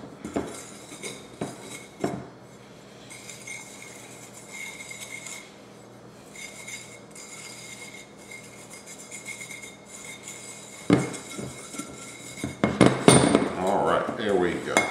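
Spices with crushed red pepper flakes being stirred in a bowl for a Cajun shrimp and rice skillet, with scattered clinks and scraping of utensil against the dish, quiet stretches between, growing busier and louder near the end.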